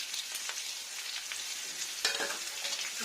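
Squeezed soya chunks fry in hot oil for a vegetarian curry, a steady dense hiss and crackle with a brief sharper flare partway through, close and moderately loud, no talking.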